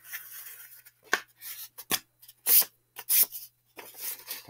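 Scissors snip through folded paper in a handful of separate close cuts, with short crisp strokes spaced by quiet pauses.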